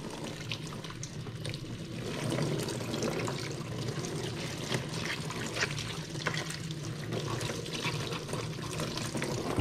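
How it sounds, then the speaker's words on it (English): Cold tap water runs steadily over a shoe outsole being rinsed, a quiet continuous splashing and trickling with no talking. "using cold water, what we're going to do is just rinse off the outsole"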